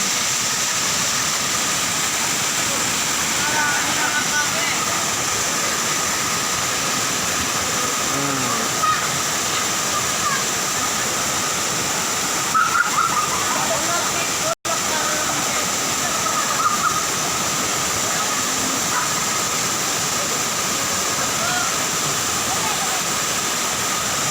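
The Busay Lower Baluran waterfall, heard as a steady, loud rush of falling water throughout, with faint voices in the background.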